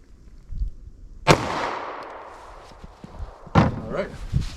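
Two sharp, loud .45 ACP gunshots from a short-barrel pistol firing PPU Defense Line ammunition at an outdoor ballistic test, each crack followed by a decaying boom, with a voice speaking faintly between them.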